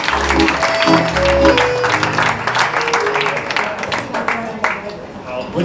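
Applause and clapping from a concert crowd at the Gaelic Club in Sydney fill the clip, steady and fairly loud, with music or voices continuing underneath.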